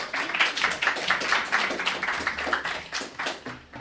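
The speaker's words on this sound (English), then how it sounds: "Everybody clap for Rosaleen Crowley." An audience at a poetry reading claps for a poet, a steady, dense patter of many hands that runs nearly unbroken for a few seconds at close range.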